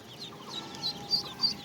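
Local deshi ducklings, about ten to twelve days old and sold by the piece, give faint high peeping calls in several short bursts against a quiet background.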